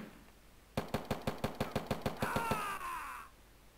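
About a dozen evenly spaced hip-fire gunshots in Call of Duty: World at War on the Nintendo DS, a rapid rhythmic burst in a free-for-all match, followed by a fading electronic whine.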